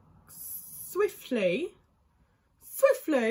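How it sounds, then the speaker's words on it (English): Short hissing bursts of a spray misted onto a face, a couple of quick spritzes alternating with a voice talking. "gonna spray my face just a bit from far"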